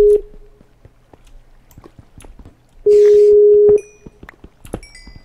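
Incoming phone call tone: a short electronic beep, then a longer sustained ring about three seconds in, separated by quiet clicks and small ticking noises, with no talking.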